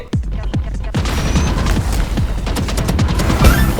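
Rapid gunfire in the video game Valorant: a dense fusillade of sharp shots and booms, loud and close, firing in quick bursts, then almost continuously, for several seconds.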